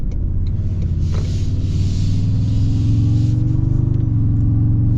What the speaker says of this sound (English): So with this hybrid turbo V6, it has a ton of low-end torque.